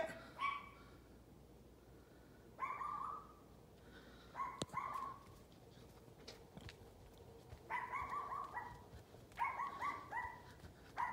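A small dog yips and whimpers in repeated short bursts outdoors near a coyote, moderately close and fairly faint, with no speech.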